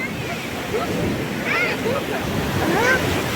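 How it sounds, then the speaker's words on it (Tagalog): Ocean surf rolls onto a beach in Egypt under wind noise on the microphone, a constant roar. Excited voices talk over it. "Oh my god, ang grabe alon."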